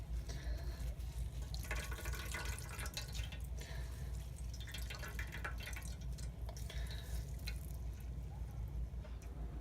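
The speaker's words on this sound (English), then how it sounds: "I'm going to pour it through this into this pan through some cheesecloth to get some of the bigger chunks out." A plantain infusion pours through cheesecloth into a pan, giving a continuous close trickling and splashing wash that runs steadily the whole time without pauses or speech.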